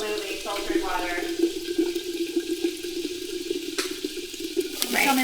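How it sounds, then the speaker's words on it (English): Filtered water rushes steadily into a pan of sautéed chicken feet, a continuous splashing pour over a soft sizzle that swells again near the end. "We're just gonna saute a little bit longer, then we'll add the water."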